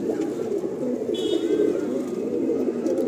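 A flock of pigeons kept in a loft keeps up an unbroken, throaty cooing murmur close by, with a faint brief chirp rising above the chorus partway through.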